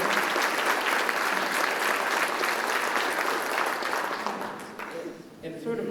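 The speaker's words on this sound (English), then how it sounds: "A round of applause, please." An audience at a college planning and graduation event applauds the staff with dense, sustained clapping that holds steady for several seconds, then thins and fades toward the end.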